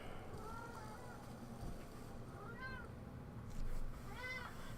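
Kira, a pet cat, gives a few faint meows over steady low background hum from a game, soft and brief, the last one slightly clearer.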